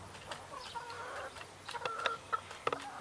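Hens in a backyard urban farm flock cluck in short, scattered bursts with a few sharper calls, moderately close against a quiet outdoor background, and no one talks.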